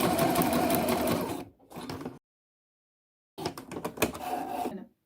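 A sewing machine stitches a dress flounce in fast, steady bursts: a long run, a short pulse, a silent pause, then another sustained run that stops abruptly.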